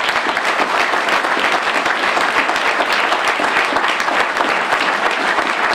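Audience at a community breakfast event breaks into steady, dense clapping that fills the whole stretch, loud and continuous with no voices standing out.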